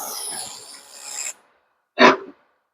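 A laser cleaner working over a grimy wood surface, a close, hissing rasp lasting just over a second, then silence, followed by a short separate burst of noise.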